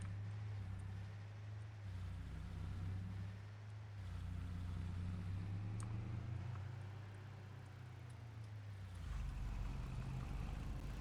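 A car rolls into a farm yard at a former state farm, its engine a low steady hum heard from inside, rising in pitch near the end as it pulls in, with no voices.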